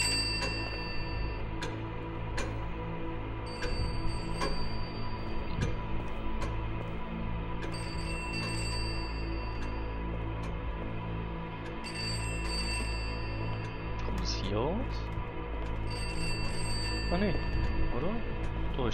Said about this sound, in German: dann lassen sie das Telefon klingeln.